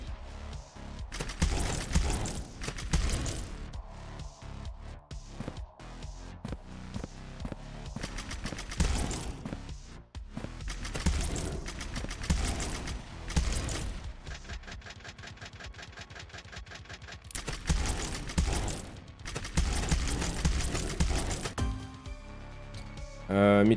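Video game gunfire from a level-two machine gun and a big revolver in Vampire Hunters comes in dense, rapid bursts separated by short gaps, loud and close, with a voice talking over parts of it.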